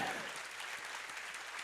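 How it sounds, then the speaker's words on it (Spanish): A church congregation applauds during a sermon, a soft, even patter of many clapping hands that sounds distant and sustained, with no voices over it. "¿Puede darle un aplauso a esa palabra?"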